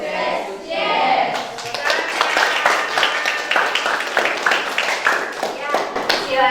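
A class of schoolchildren claps a rhythmic chant in unison, quick bursts of hand claps repeating steadily with voices chanting along throughout.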